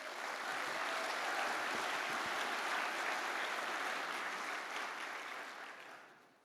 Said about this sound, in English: a round of applause for the team at Trades Hall Council